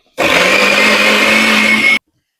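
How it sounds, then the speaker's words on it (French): A kitchen blender runs at full speed mixing a creamy smoothie, a loud, steady whirring roar lasting about two seconds, then cutting off abruptly into silence. "j'arrête de parler et je mixe tout ça. Ça va faire un peu de bruit."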